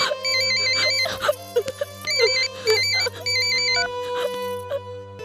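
A mobile phone ringtone plays a repeating electronic melody in bursts over about five seconds, loud and close, with a steady tonal backing beneath and no talking.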